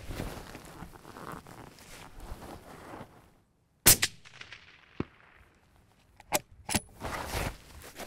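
A single sharp 6.5 PRC rifle shot fired from a rifle resting on an Atlas bipod, with a crisp crack and a fading tail, followed by a few faint clanks and handling noises.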